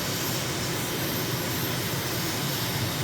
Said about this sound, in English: jet trainer, it's a great recon vehicle